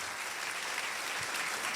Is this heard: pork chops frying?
no